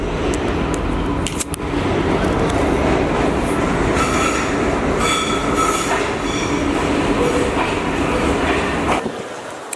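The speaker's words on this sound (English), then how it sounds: "these subways are really nicely set up and easy to take, and they come very often." A European subway train rumbles loudly and continuously up close, wheels clattering and squealing over the rails throughout before the noise drops off abruptly at the end.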